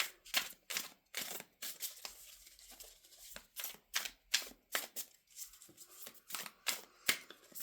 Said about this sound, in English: You can watch me deal out the cards.